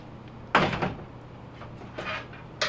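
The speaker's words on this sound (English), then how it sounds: "And pull the front panel away there." A Whirlpool front-load washer's front panel is pulled away during a repair for a leaking bellows, giving a close, loud clatter of sheet metal followed by fainter knocks and a final bump.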